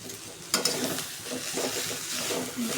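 Wild greens with plenty of coriander are sautéed in a pan over low heat, giving a soft steady sizzle broken by a couple of sharp utensil scrapes and stirring clatters near the start.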